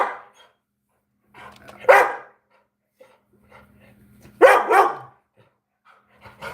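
A small pet dog barks in two sharp bursts amid a loud indoor live stream, with faint panting and a few short yips in between, close to the microphone.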